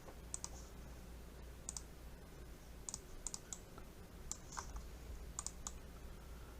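Computer mouse clicking while working in Tinkercad on a 3D model, sharp close single and double clicks spaced irregularly over a quiet room hum.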